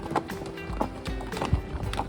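Horse hooves clip-clopping on a mountain trail during a horse ride in Pahalgam, Kashmir, a few uneven nearby thuds and knocks in a quiet outdoor setting.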